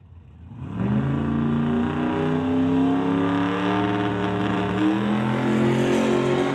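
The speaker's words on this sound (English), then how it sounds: "Here, Lee building up the revs" A drag racing car engine revs up hard and holds a loud, steady, high-pitched roar throughout.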